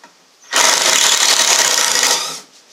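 A power drill backs screws out of banquette braces in a farmhouse kitchen, a single loud whirring burst of about two seconds that starts and stops abruptly.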